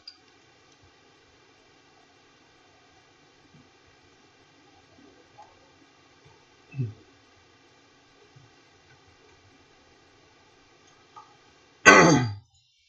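A quiet room broken by a few isolated noises: a low throat-clearing grunt midway, then a sharp, loud cough near the end.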